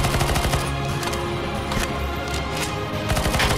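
Rapid, continuous automatic gunfire in the CS:GO zombie escape map ze_kitchen_v2, dense overlapping shots with a constant loud roar throughout and no talk.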